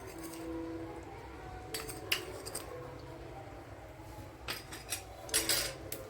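A spoon mixes ghee, cardamom powder and grated coconut into kobbari burelu batter, making soft, close clinks and scrapes against the bowl at an irregular pace, with no talk.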